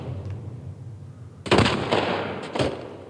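Gunfire in the video game The Last of Us Part 1: two sharp, loud shots about a second apart, each with a short echoing tail, after a quiet stretch.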